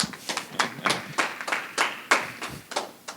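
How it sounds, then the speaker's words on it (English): A small group at an education forum claps in a loose, uneven rhythm, a dozen or so distinct hand claps spread across a few seconds with no crowd roar behind them. "We can clap after each person."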